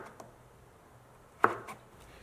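A kitchen knife cutting radish into slices, mostly quiet room tone broken by one sharp chopping knock on the board and a few faint lighter taps, close and alone without speech.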